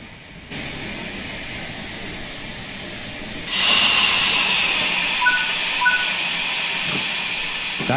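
A steam locomotive in Train Sim World 5 brakes to a stop, starting with a steady low rumble, then a loud broad hiss of released air and steam that keeps going, with faint squeals and clanks under it.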